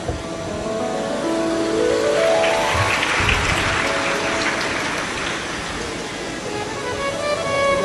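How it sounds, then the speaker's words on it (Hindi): Large audience at a Shiv Mahapuran religious discourse breaks into loud, sustained applause, a dense rain-like clapping that swells and holds for several seconds with no talk over it. "एक बार बेटी के लिए जोरदार ताली बजाओ"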